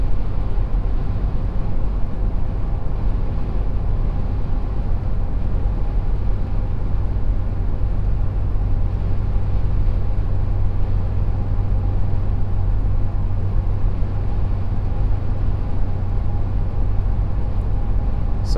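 Steady, unbroken drone of a 2019 Toyota 4Runner Limited gas engine pulling up a steep hill, heard from inside the cabin as a constant low road-and-engine hum with no shift audible and no talk.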